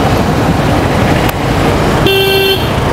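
Two-wheeler riding through night-time city traffic near Mumbra road, Mumbai, with a steady roar of engines and wind, then a sustained car horn honk toward the end.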